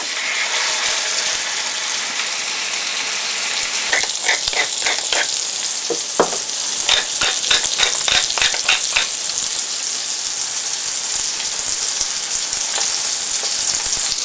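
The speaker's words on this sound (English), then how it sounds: "So we get two nice steaks here. And what we're going to do is crust them up." Two steaks searing in a pan of sage butter give a loud, steady broadband sizzle with no pauses, and a few short bursts of crackle and spatter rise above it partway through. No one speaks.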